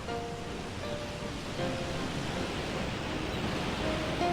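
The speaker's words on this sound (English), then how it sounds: "We heard this waterfall." Steady roar of a waterfall in the Shenmue II video game, a constant broadband wash of falling water that holds at an even level throughout with no voices.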